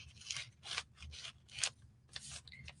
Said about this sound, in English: I'm just going to cut them down kind of small